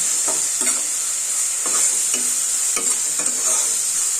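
Mutton curry masala frying in a pan while a spoon stirs it, giving a constant bright sizzle under regular scraping strokes about twice a second. Close and loud, with no talking.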